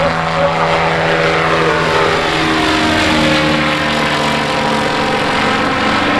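Propeller aircraft flying over the ultralight runway at EAA AirVenture Oshkosh 2021, a loud, continuous engine and propeller drone that holds steady throughout, with no voices.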